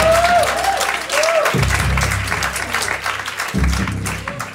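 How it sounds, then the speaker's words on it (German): A crowd at a German comedy contest show applauds loudly, the clapping broken twice by a deep thudding voice or sound, fairly close and full throughout. "Das ist der Typ, dem ihr jetzt auch noch Applaus schenkt?"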